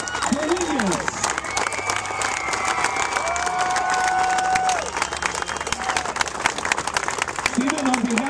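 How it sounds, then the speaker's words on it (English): Applause and cheering from a high school audience honouring a band student, constant clapping throughout with voices calling out over the crowd noise. "a big round of applause to Steven Dominguez."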